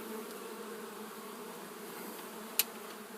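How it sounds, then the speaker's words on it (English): Carpenter bees buzzing around a wooden country house, a steady close droning hum that continues throughout, with one brief sharp click near the end. "Look what the carpenter bees are doing to this house though."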